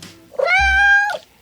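A cat gives a single clear, drawn-out meow, close and loud, in an otherwise quiet room.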